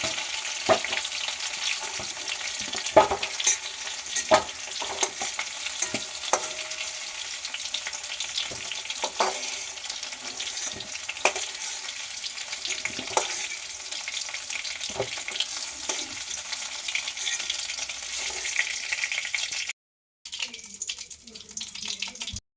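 Potatoes sizzling in hot oil with steady crackle, punctuated by occasional clinks and stirring scrapes, briefly cutting out near the end.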